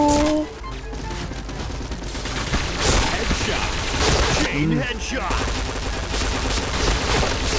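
Bursts of automatic gunfire ring out in Point Blank, a steady rapid clatter of shots that carries on almost without pause, loud and close, with a voice talking over it.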